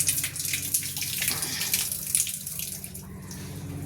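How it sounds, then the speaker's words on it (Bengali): Water runs steadily from a hand-washing tap at a rain-soaked Ramakrishna Mission site in Silchar, Assam, a continuous close splashing hiss with no speech. "এখানে হাত ধোয়ার স্থান, হাত ধুয়ে তারপরে ভেতরে ঢুকবো।"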